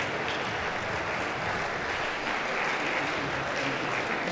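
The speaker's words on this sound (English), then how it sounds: "a round of applause to the senators who are arranging themselves" Audience applause at a university inaugural lecture in Jos, a dense, sustained clapping from a large crowd, loud and even throughout with no clear talk.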